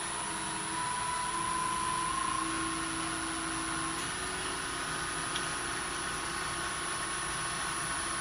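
A wood lathe spins at about 2000 RPM while turning an acorn ornament, giving a steady whirring hum with faint tonal whines, continuous and moderately close throughout.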